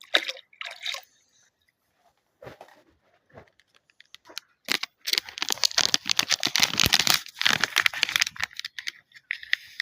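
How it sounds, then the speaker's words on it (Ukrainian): Liquid splashes and trickles as a dissolved succinic acid solution, mixed in warm water, is poured from a small ladle into a bucket, loudest in a sustained burst toward the end with brief drips and handling noises before it. "І вилю все це у відерце і додам туди брексіл комбі."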